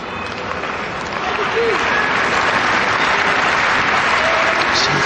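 Applause rolls from a home crowd at a 2008 women's tennis semifinal in Antwerp, a dense steady clatter that swells after about a second and a half and holds loud to the end, with faint voices mixed underneath.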